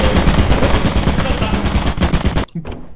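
An automated turret in the video game Lethal Company sprays rapid machine-gun fire in a loud, steady burst lasting over two seconds, then cuts off abruptly with a short trailing clatter.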